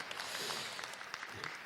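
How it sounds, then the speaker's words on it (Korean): Soft, steady applause from an audience at a school research report meeting in Korea, faint and distant with a continuous patter of clapping hands. "다시 한번 큰 박수로 감사의 인사 드리겠습니다"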